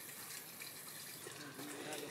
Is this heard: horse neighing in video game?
no